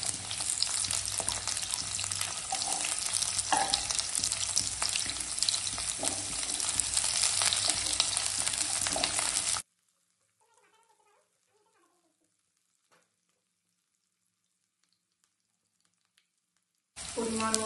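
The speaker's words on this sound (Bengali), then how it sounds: "রসুন, ক্যাপসিকামগুলো একটুখানি সাদা তেলের মধ্যে ফ্রাই করে নেব।" Garlic, ginger, chopped chili and capsicum frying in white oil, a loud steady sizzle for about ten seconds, then near silence with a few faint clinks before the sizzle returns at the end.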